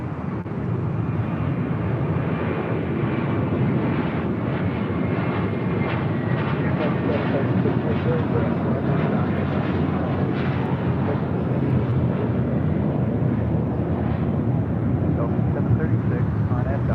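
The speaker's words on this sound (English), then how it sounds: "A380 Super continuing taxi there on Bravo" An Airbus A380 jet taxis at LAX with a loud, continuous engine roar and rumble that holds steady throughout, while voices talk faintly underneath.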